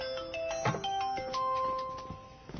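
A mobile phone ringtone plays in a Korean drama scene, a melodic sequence of bright electronic tones repeating at moderate volume.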